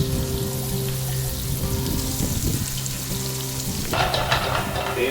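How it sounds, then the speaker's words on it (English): Sliced onions fry in butter in a pan, giving a steady close sizzle with faint stirring and scraping throughout. "we're just going to sweat off the onions until it's fully caramelized"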